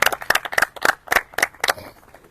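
Several people clap in short irregular bursts, a modest round of applause for former FC Lubumbashi Sport football players dressed in club colours, fading out after about two seconds.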